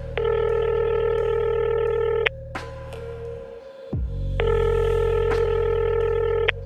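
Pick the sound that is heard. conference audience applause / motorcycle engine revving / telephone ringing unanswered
telephone ringing unanswered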